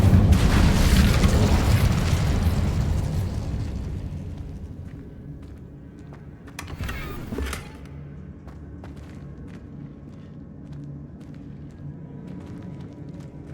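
Incendio fire spell cast in Hogwarts Legacy: a loud whooshing, booming burst that slowly fades over several seconds, then a brief second flare of sound amid quiet game ambience.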